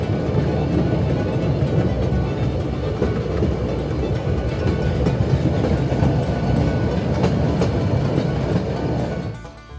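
Rail speeders roll along the Niles Canyon Railway with a steady, loud rumble of wheels on track and faint clicking, fading out at the very end.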